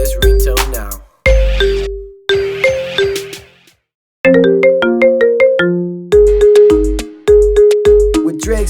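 A phone ringtone built from a rap song plays a bright, looping synth melody. Short repeated phrases are split by brief pauses, loud and clean with no voices.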